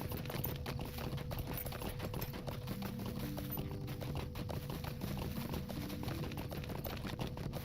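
Horse hooves clip-clop in a steady, even rhythm throughout as a mount travels in the Lord of the Rings Online video game, fairly faint over a constant soft ambient background.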